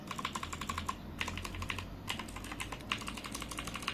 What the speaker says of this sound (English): Clicky sound of the Otemi Blue switch.